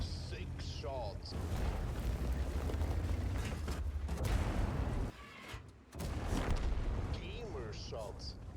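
Tank guns boom in the World of Tanks video game, with heavy explosive shots and rumbling impacts in a dense barrage under an ongoing voice, broken by one short, quieter pause.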